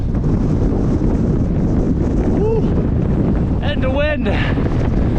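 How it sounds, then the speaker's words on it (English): Strong wind gusts buffet the microphone on an exposed, cold mountain stretch of the Tongariro Alpine Crossing, a continuous low rumbling roar. Brief bits of speech and a voice break through near the end. "wind is picking up"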